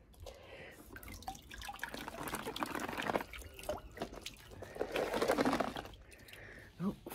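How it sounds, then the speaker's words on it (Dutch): Hot water splashes and trickles into a garden bath outdoors, a quiet, uneven dribbling and pouring with soft voices murmuring faintly nearby. "Ik denk dat ik iets te veel heet water erin heb gedaan."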